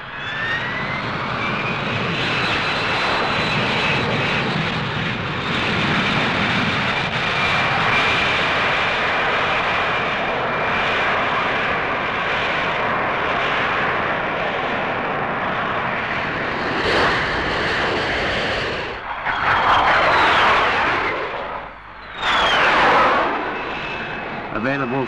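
A Hawker Siddeley Harrier jet engine roars steadily and loud with a high whine on top, swelling in two brief surges near the end.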